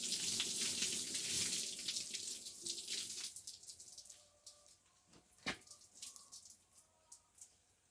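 Tap water runs steadily into a sink for a few seconds as something is rinsed, then shuts off, leaving faint clinks and small handling noises.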